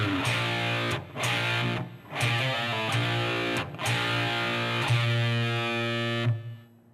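Distorted electric guitar playing a four-measure phrase, sustained heavy power-chord notes with brief breaks between them, close and loud with no talk.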